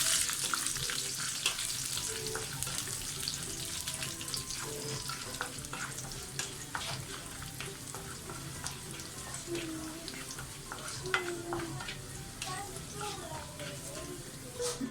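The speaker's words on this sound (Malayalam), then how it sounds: "കുറച്ച് മുന്തിരി കൂടി നമുക്ക് ഈ എണ്ണയിലോട്ട് അങ്ങോട്ട് ഇട്ട് കൊടുക്കാം. അതിൻ്റെ കൂടെ തന്നെ ഇത് കുറച്ച് കറിവേപ്പില കൂടി ഞാൻ ഇട്ട് കൊടുക്കുന്നുണ്ട്" Cashews, raisins and curry leaves fry in hot oil, a dense continuous crackling sizzle with scattered pops and occasional spoon stirs throughout, fairly close.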